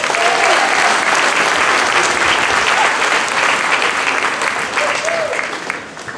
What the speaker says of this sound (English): Let's have a big round of applause for our inaugural members